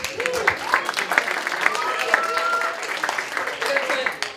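Audience clapping and cheering after a long card trick at a Purim mentalist show, a steady wash of applause with crowd voices and chatter running through it.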